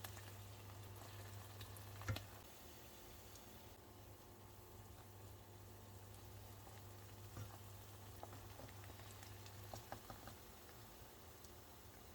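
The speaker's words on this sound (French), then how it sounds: "J'ajoute donc l'oignon haché à côté de mes aubergines, je l'étale pour que ça soit doré rapidement" Chopped onion fries beside aubergines in a pan, a soft, continuous sizzle and patter with a few scattered clicks and stirring sounds over a low background hum.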